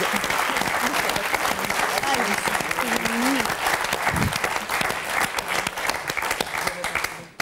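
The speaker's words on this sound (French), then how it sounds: "Allez, on applaudit Marie-Christine, Nathalie, Sandrine et Charl" Loud, sustained applause from a studio crowd on the French game show Motus fills the whole stretch, with a voice briefly rising over the clapping before it fades out.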